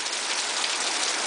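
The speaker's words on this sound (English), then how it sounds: "It's freaking pouring, and it has been pouring." Heavy rain pours steadily in Nosara, a dense continuous hiss of drops drumming on surfaces, loud and close with no pauses and no voices.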